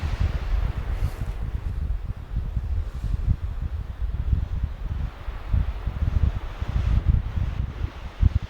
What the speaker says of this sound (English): As you can probably hear, it is quite windy up here still